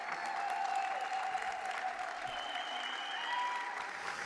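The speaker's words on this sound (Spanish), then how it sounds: "ustedes les van a recibir con un fuerte aplauso" An audience at a conference on cannabis and care applauds steadily to welcome a speaker, a dense, continuous clapping that stays even for the whole stretch, with faint tonal music or feedback beneath it.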